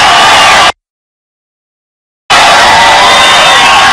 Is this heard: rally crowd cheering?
yes